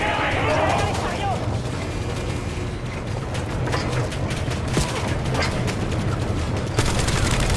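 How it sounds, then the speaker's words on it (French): Automated turrets fire in the Black Ops 7 video game, rattling off dense, continuous bursts of gunfire with scattered sharp cracks and booms throughout. "Ces tourelles vont nous transformer en passoires."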